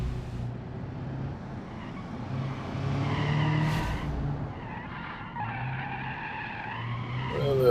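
Tires squeal and skid through understeer on an easy race track in BeamNG.drive, with a steady low-gear engine drone underneath and the rising squeal standing out near, recurring in two stretches.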